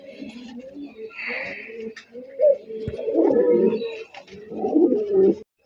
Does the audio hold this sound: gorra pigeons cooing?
yes